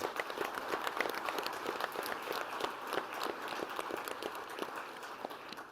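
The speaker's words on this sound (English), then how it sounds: "So let's give Paul a round of applause." An audience at a peace initiative event gives a round of applause, a dense, steady patter of many hands clapping, somewhat distant and even for several seconds.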